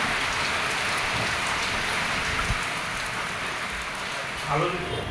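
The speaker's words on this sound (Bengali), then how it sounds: "এখনও সেই বৃষ্টি পড়তেছে" Steady, heavy rain pours down, a dense unbroken hiss of drops striking surfaces throughout.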